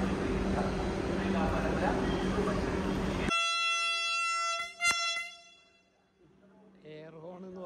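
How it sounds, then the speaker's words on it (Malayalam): Heard from the cabin of Kerala's second Vande Bharat Express in orange livery, a loud, close air horn blast rings out after a few seconds of steady running rumble, cuts off sharply with a brief burst, and fades into a quieter hum. "എയർ ഹോൺ എന്ന് പറഞ്ഞു കഴിഞ്ഞാൽ ഇതാണ് എച്ചാദി സൗണ്ട്."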